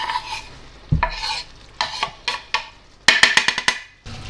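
A utensil stirs a mushroom cream sauce in a pan, making a series of close scraping strokes and quick, irregular clinks over a soft sizzle, growing denser toward the end.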